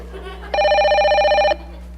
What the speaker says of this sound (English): That's the phone, Ken.